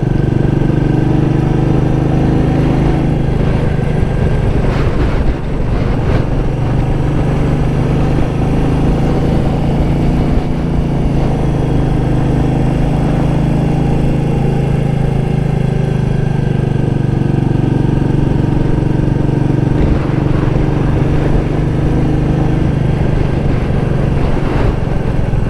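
A Royal Enfield Meteor 350 motorcycle's single-cylinder engine hums continuously in third gear on a tight, twisty road, steady and loud with slight rises and falls in pitch. Wind noise runs throughout and there is no talking.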